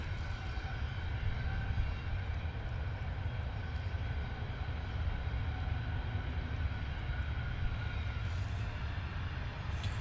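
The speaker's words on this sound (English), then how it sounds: "Our Gulfstream 7500 is backtracking at runway 26." A Gulfstream 7500 private jet backtracks along runway 26 at London Luton Airport, its engines giving a steady, loud, continuous roar and whine throughout with no talking.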